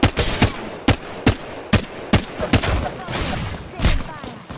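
Rapid gunfire in Apex Legends, a string of loud sharp shots in bursts at an uneven rhythm, close and dominant, with faint game chatter.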